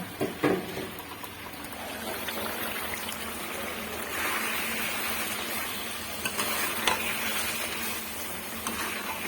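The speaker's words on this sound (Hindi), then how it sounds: "और यहाँ पानी भी बॉईल हो चुका है। अब इसमें मैं सारे चावल डाल दूंगी।" Rice poured into a pot of boiling water for mutton Sindhi biryani: a steady hiss of bubbling, rolling water with a few soft splashes and trickles, close and continuous throughout.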